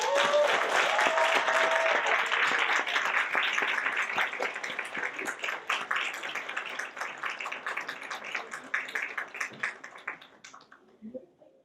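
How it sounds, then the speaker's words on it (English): An audience at a student government awards ceremony bursts into loud applause for an award recipient, the dense clapping gradually thinning and fading into scattered claps before ending. "Please give me a big round of applause for Rafaela Ramirez."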